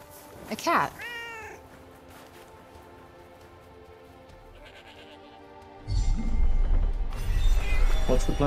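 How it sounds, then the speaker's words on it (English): A cat in the video game Forspoken meows a couple of times early on, a clear close call over a quiet game backdrop, before a louder stretch of game ambience and rumble takes over. "A cat."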